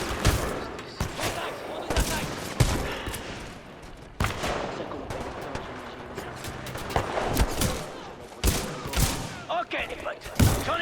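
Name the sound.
gunfire in the video game Titanfall 2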